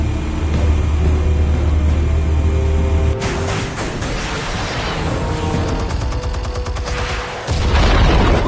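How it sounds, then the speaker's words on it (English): Explosives detonating in a Batman video game: loud, sustained booming and rumbling with crackling bursts, a sharp shift after three seconds into rattling debris and blasts, then a heavy low roar returning near the end. "Explosives armed. Fire when ready."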